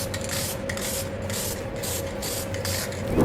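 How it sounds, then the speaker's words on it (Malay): An aerosol can sprays a final coat of Deep Blue code 23 paint over masking tape in a series of even hissing bursts with short gaps between them, loud and close. "kita gunakan semburan terakhir dengan Deep Blue kod 23. So, macam biasa, spray je,"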